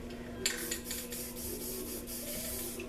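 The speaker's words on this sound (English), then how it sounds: "I keep spraying the wrong damn color." A spray paint can hisses steadily at close range during spray painting art, a continuous airy spray lasting most of the moment, with no talking.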